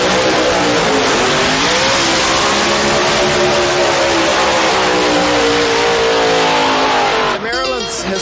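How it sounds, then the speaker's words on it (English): A hot rod drag car at a historic Maryland dragway roars through a burnout, its engine holding a loud, sustained high-revving howl with tire noise for most of the stretch before cutting off near the end as a voice comes in. "The burnouts, and that's one of my specialties,"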